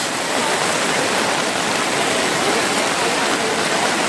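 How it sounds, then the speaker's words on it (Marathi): Heavy monsoon rain pouring at a crowded temple in Ganpatipule, Konkan, on Angaraki Sankashti Chaturthi, a dense, steady, close hiss of water without voices. "मित्रांनो पाऊसच पाऊस"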